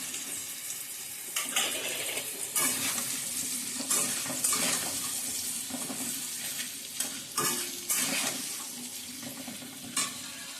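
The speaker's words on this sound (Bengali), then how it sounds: "মিষ্টি কুমড়োগুলো দিয়ে দেব।" Sweet pumpkin pieces and potatoes frying in a pan, a steady close sizzle broken by repeated louder bursts of stirring and scraping, with no talk.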